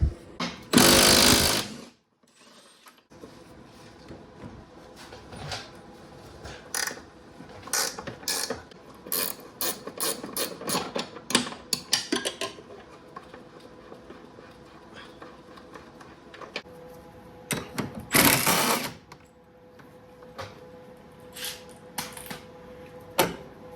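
Bolts come off the suspension of a Nissan S13 240SX fitted with an FDF kit. A power tool gives a loud rattling burst, then a long stretch of clicking and ratcheting mechanical work follows, with another loud burst later on.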